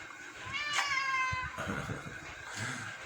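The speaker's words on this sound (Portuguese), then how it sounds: "Olha o gato." A cat meows once in a clear, drawn-out call close by, followed by softer, lower cries and light rustling.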